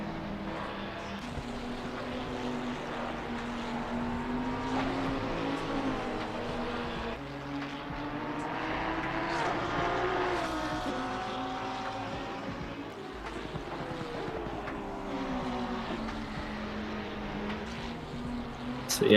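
Race car engines in a Spa 12 Hours endurance race in a racing video game, a continuous droning engine note with shifting pitch that rises and falls steadily throughout at moderate level, without other sounds standing out.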